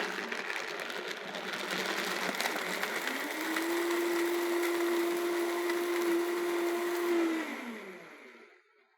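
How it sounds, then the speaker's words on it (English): A blender purees almond Alfredo sauce in a continuous loud whirring drone that deepens into a steady hum partway through, then winds down and fades at the end, with no voices. "Now we're ready to blend."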